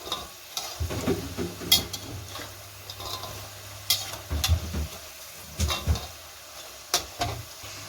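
French fries frying in oil in a pan, a low steady sizzle with scattered bubbling pops and occasional utensil clicks, close and moderately loud, with no talking.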